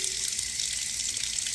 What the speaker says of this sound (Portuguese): Vou abrir a torneira já.